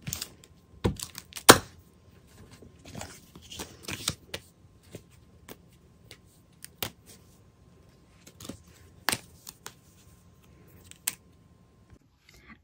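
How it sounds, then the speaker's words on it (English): Tape peeled from the cardboard box of a Barbie activity pack, heard as close, intermittent crackly clicks and sharp taps with quiet gaps between them and no voices. "I'm gonna have to get the tape off and then it will be open."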